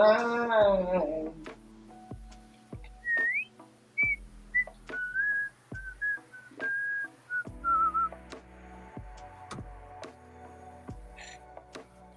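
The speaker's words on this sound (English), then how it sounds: "when I start whistling" A person whistles a wandering melody in short phrases, moderately close, with faint clicks and light background noise during a live drawing session.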